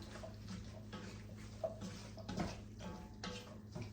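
Water pouring into a soup pot for albondigas in a home kitchen, a soft splashing stream with light clinks of pots and utensils, faint and close, no talk.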